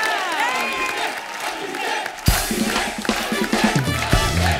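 A live comedy-show studio audience cheers, whoops and applauds for the performers, loud and crowded, with a sharp surge of shouting and clapping midway through.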